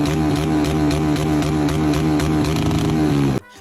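A motorcycle in Cameroon with a modified muffler rumbles loudly and close with a rough, pulsing engine note for about three seconds, then stops abruptly.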